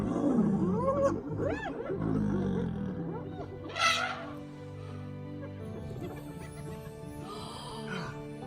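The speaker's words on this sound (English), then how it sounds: "Look at this lion right here." A lion roars in the wild at Amboseli, Kenya, with deep, drawn-out calls rising over a noisy outdoor scene where other animal calls and excited voices also sound.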